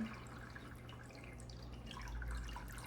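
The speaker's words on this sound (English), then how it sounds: "You pour your juice straight into this little guy and let it sit" Meat juice from Instant Pot carnitas trickles and drips softly into a fat separator. It makes a faint, quiet liquid pour with no voices.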